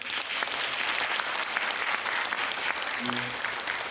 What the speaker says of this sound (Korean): 하나 둘 셋 하면 큰 박수 부탁드리겠습니다